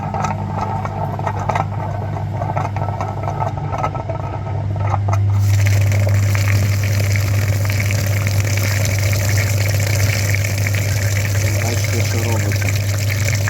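Water and cleaning chemicals rush steadily through the radiator of a VW Transporter T5 during a cooling-system flush, a continuous gushing hiss with a pump-like drone that grows louder and fuller partway through, with no talk.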